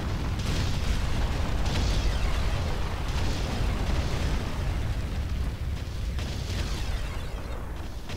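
A Hoverdyne unit blows up in the Ground Control strategy game, a loud, sustained rumbling explosion with rolling booming bursts throughout, no talking over it.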